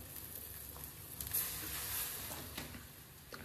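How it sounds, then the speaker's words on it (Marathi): Maggi masala roasts in a pan with a faint, steady hiss and soft crackle, quiet and uninterrupted throughout. "तर आपण पहिल्यांदा आता मसाला टाकणार आहे, कारण मसाला प्रॉपरपणे भाजून घेणार आहे."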